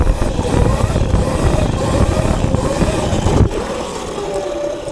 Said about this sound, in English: Let's actually finally test this motor.